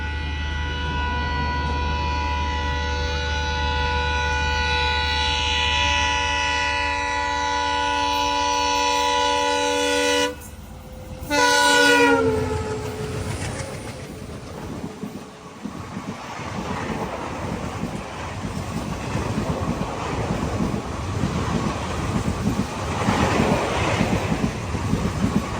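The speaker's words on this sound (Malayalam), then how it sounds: "ഈ വഴി ഇപ്പോൾ ഒരു വണ്ടി പോവും, ബാട്ട്മ ഋഷികേശ് എക്സ്പ്രസ്." A Bathinda-Rishikesh Express train passes close by, a long sustained horn blast opening before the cars roll through with a steady rumbling clatter and wind buffeting.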